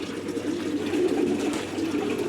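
Pigeons coo softly and continuously in a low, murmuring chorus at a pigeon farm in Qatar, with no speech.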